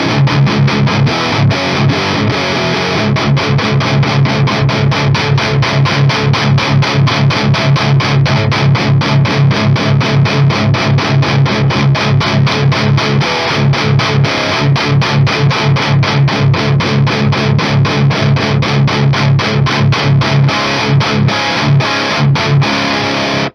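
Heavily distorted electric guitar chugging through a KSR Orion 45W amp with the bright switch off, giving a dense, steady palm-muted riff that stays loud throughout with no talking.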